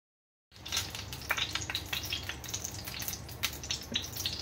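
Mackerel fish frying in a wok, a steady crackling sizzle with sharp spattering pops that starts abruptly after a short silence and continues close and fairly loud, with no voices.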